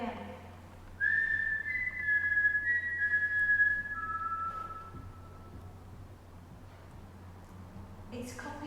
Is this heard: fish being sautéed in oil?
no